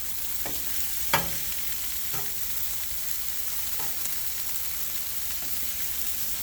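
Mushrooms and asparagus saute on a Blackstone griddle with a steady, even sizzle throughout, broken by a few light scraping taps of a spatula.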